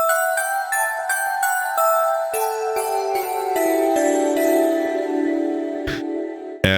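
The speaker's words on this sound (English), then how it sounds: "So you can hear the filament of the tungsten ringing when the glass is hit." An Omnisphere synth patch sampled from struck light bulbs, with glass being hit and the tungsten filament ringing, processed with limiting, chorus, echo and reverb. It plays as a rhythmic sequence of bright, bell-like tinkling notes with shimmering sustain.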